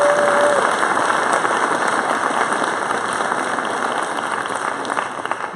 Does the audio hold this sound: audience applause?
yes